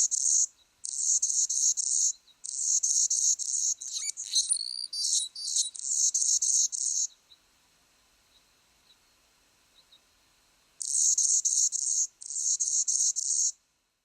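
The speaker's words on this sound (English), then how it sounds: "Anna's hummingbirds have a distinctive song that is long for a hummingbird." An Anna's hummingbird sings a long, thin, scratchy series of buzzy high notes in rapid bursts, with a squeaky whistle and chip notes in the middle, a pause, then the buzzing resumes; clear and close.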